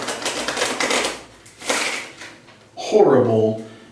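Cards riffle in two quick rattling bursts, followed by a voice speaking close by.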